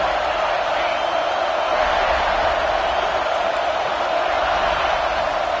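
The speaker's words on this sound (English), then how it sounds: "This crowd ready to make its presence known." A football stadium crowd at the South Carolina vs Oklahoma game makes a steady, dense roar that holds at an even level throughout, with no distinct voices standing out.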